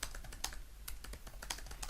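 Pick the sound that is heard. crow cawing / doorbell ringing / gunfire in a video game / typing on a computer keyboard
typing on a computer keyboard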